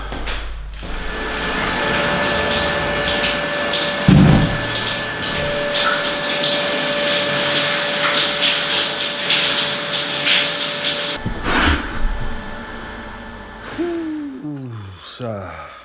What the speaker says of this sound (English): so let's go and attempt the shower.